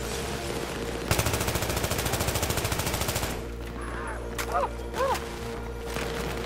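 Rapid automatic gunfire in Battlefield 3, a loud steady burst of evenly spaced shots lasting about two seconds, followed by quieter ambient game sounds and a few chirpy effects.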